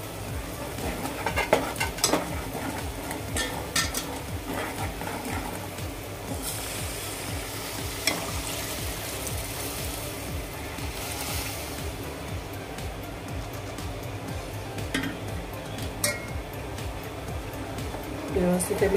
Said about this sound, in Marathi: आता आपण स्टॉक घालून घेऊया या पातेल्यामध्ये.